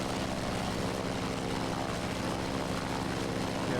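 An F4F-4 Wildcat propeller aircraft drones with a loud, steady engine roar that holds constant throughout, heard from up close with no talking.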